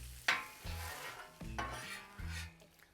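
Sausage for a meat lovers flatbread cooks in a pan, with a soft sizzle and several close clinks and scrapes of a utensil against the pan.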